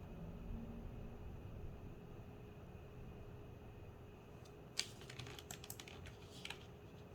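Computer keys pressed during a Photoshop session, a quick cluster of light clicks near the end after a stretch of quiet room hum, close but soft.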